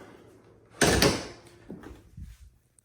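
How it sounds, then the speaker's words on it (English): Doors on a garage or workshop holding a C5 Corvette being pulled shut, with a loud closing bang followed by a few softer knocks and rattles as they settle, no talking. "Close these doors."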